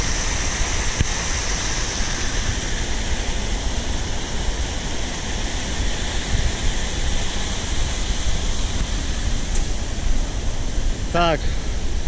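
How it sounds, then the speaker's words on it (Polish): A loud, steady waterfall roar at a 19th-century mill dam fills the scene as broad, constant rushing water with no pauses throughout. "bo jest bardzo duży szum od wodospadu"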